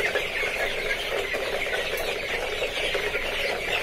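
Young tiger chickens crowded together on a small aseel farm in Bangladesh give a steady, dense flock chatter of clucks and peeps throughout, moderately loud and without voices.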